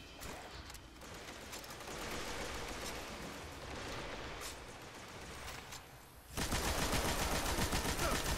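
Dense automatic gunfire from the video game Destiny during a Nightfall strike, a sustained rattling barrage that eases slightly midway, then surges louder and harsher near the end.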